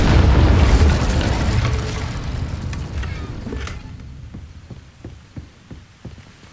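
Incendio fire spell cast in Hogwarts Legacy: a loud, rumbling burst of flame that roars for a few seconds and fades, followed by a run of soft, sharp crackling pops.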